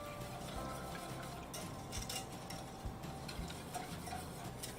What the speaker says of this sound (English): I'm going to cook the pastry cream over medium heat, whisking as it comes to a simmer